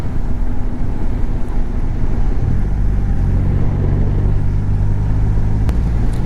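Triumph Rocket 3 GT motorcycle riding on an open road, a steady loud engine drone with heavy wind rush, the engine note shifting lower partway through as it cruises.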